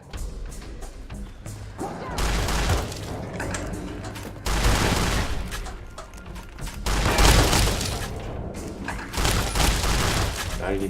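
Gunfire from the enemy Mortimer in Fallout: New Vegas comes as heavy repeated bursts that start around two seconds in. The volleys are loud and close, mixed with crashes and booms, and the game's sound continues between them.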